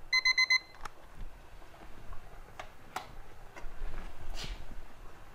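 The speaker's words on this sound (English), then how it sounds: "there goes my timer" A kitchen timer beeps in a quick burst of four bright tones while snow peas blanch, followed by quiet room noise and a few soft clicks and taps.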